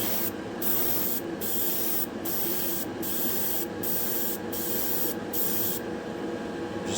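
Airbrush spraying colourshift paint lightly onto a spoon, a continuous close hiss with short rhythmic pulses of brighter spray roughly every half second.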